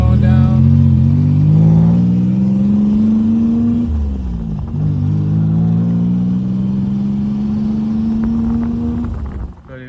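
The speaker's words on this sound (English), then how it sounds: "It actually was revving." Turbocharged Nissan Z31 engine revving loudly and steadily under an Autotune tune, the pitch climbing gradually, dipping briefly midway, then rising again before cutting off near the end.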